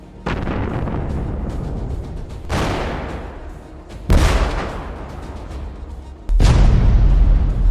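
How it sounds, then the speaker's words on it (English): A series of heavy booming explosions on a road in a war zone, four large blasts in a row, each a sudden loud burst followed by a rumbling, roaring decay. "an explosion occurs, followed by several more"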